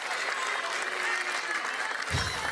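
A crowd at a pickleball singles match in Newport Beach breaks into loud, sustained applause and cheering, with a commentator's voice joining near the end.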